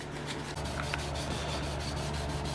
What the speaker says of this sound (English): David's gonna give it a nice wet sand.